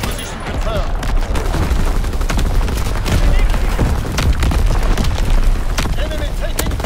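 Artillery barrage in Call of Duty: WWII multiplayer: loud, continuous booming volleys and rapid gunfire layered over each other, with voices talking through the din.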